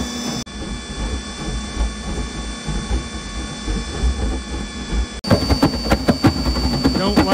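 A radiant tube burner fired on waste oil roars steadily as it warms up, a close, continuous broadband rumble that shifts into a harsher, pulsing rhythm near the end.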